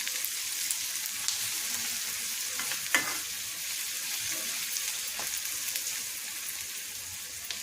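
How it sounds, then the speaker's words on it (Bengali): Sliced onions fry in hot oil with a little sugar to caramelize into crisp beresta, giving a steady close sizzle with a few soft clicks from stirring. "তো আমি এই পেঁয়াজটাতেই দিয়ে দিচ্ছি যাতে এই ক্যারামেল হয়ে গিয়ে একটু বেরেস্তাটা সুন্দর হবে"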